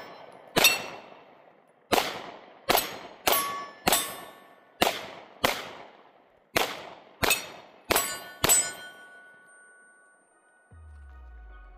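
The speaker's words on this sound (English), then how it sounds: "So let's do some more shooting, see the difference here." Eleven sharp, loud shots from a Hellcat Pro pistol ring out at a steady, fairly quick pace, each with a metallic clang and a short decaying ring, fired alone with no talking.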